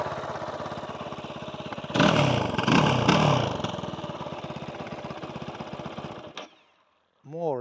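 Kove 450 Rally motorcycle single-cylinder engine idling close by with a rapid, loud mechanical knocking clatter, three sharp throttle blips in the middle, then the engine cuts off into near silence before a brief restart.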